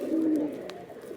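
A Giribaj pigeon in Rajshahi gives a single brief, low coo, close by, then a short trailing murmur in a quiet room.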